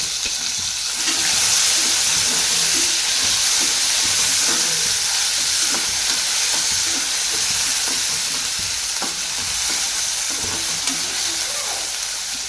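Garlic, onion and tomato fry in a pan with cumin, giving a steady close sizzle and hiss throughout, with occasional faint stirring clicks and no talk.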